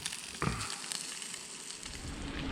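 A campfire at night at a provincial campground crackles and hisses steadily at close range, with scattered sharp pops over a dense sizzling bed and no voices.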